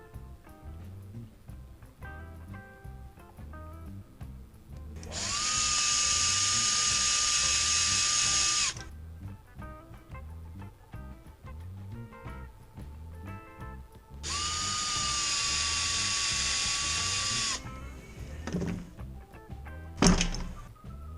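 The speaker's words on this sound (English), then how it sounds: "So we'll put it back together with some Loctite screws." A power drill drives screws while an Echo blower's rewind starter is reassembled, giving two steady whirring bursts of about three seconds each with quiet handling between them and a sharp thunk near the end.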